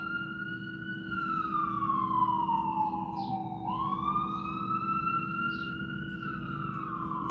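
An ambulance siren wails in two long rising and falling sweeps, fairly faint and at a distance, over a steady low background hum.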